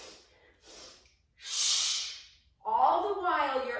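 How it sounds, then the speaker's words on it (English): Double sniff breathing during a yoga flow: two short sniffs in through the nose, then a long, strong breath blown out through the mouth. The breaths are close and clear, with quiet gaps between them. "So it's 2 sniffs in and then you blow out through the mouth."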